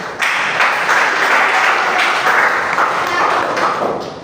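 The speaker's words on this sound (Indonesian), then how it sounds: "Tepuk tangan kelompok 2" Classroom applause for a student group, a short burst of many hands clapping together, fairly loud and close, holding steady before tapering off.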